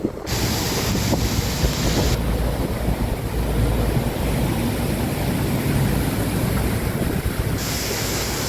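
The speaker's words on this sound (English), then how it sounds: "we are exposed to the wind here" Strong wind blows outdoors beside a canal near the Cheshire salt town of Middlewich, a loud continuous roar and buffeting across the microphone throughout, with no speech.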